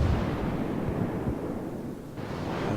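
Naval gunfire from a Pensacola cruiser in World of Warships, heavy low booms and rumbling blasts over a windy, noisy background, loud and close with no talking.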